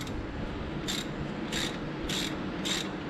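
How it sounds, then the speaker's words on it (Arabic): Cylinder head bolts are loosened on a Land Rover Discovery II engine with a ratchet wrench, giving four evenly spaced bursts of quick clicking over a steady background hum. "براغي الهيد لازم نفكهم هذول طبعا بالتساوي"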